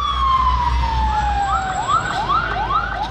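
A fire engine siren wails as the brigade arrives at a burning oil tanker at a petrol pump, its tone sweeping in repeated rising whoops over a low engine rumble, loud and close.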